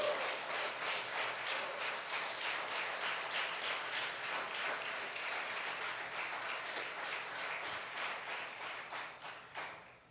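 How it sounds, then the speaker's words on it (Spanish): Steady, dense clapping from a church congregation fills the whole stretch without talk, gradually thinning and fading toward the end. "Dale un aplauso al Señor"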